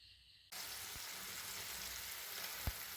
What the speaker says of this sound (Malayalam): നമ്മുടെ ചിക്കൻ നന്നായി തിളച്ച് വരുന്നുണ്ട്